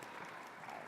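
Faint, steady clapping from an audience fills the whole short moment as a soft continuous patter, with no distinct individual claps standing out.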